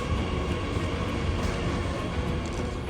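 A train rolls along on a German rail journey toward Berlin, a steady loud rumble and wheel noise filling the whole stretch without a break.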